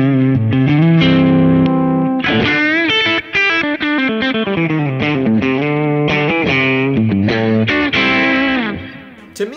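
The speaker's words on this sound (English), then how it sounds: "All of a sudden a lot of this high treble-y presence is going to come back and it's going to sound like this." Distorted electric guitar with PAF-style pickups through a Kemper amp, its treble presence boosted by EQ for a bright, twangy edge; loud riffs and chord stabs play alone, fading at the end.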